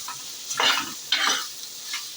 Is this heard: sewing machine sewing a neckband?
no